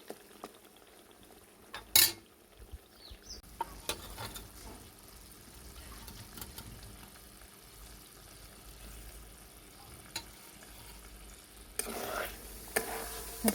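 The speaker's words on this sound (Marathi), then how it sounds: "त्याच्यामध्ये आपण शिजवून घेतलेलं मटण टाकून घेणार आहोत" Cooked country rooster mutton stirred into a dark masala in a pan, with a steady soft sizzle under repeated metal spoon clinks and scrapes, fairly quiet and close.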